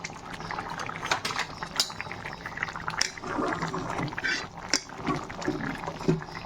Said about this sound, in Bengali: আর একটু ফুটবে, শুকনো শুকনো হবে